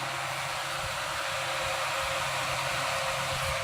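An electric fan blows air at a night jungle campsite, producing a continuous steady whooshing hum with a low motor tone underneath. It stays constant and fairly loud throughout.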